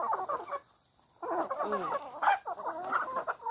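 Native chickens cluck and chatter busily while being fed, close and lively in overlapping bursts with a short lull near the start, over a faint steady high whine.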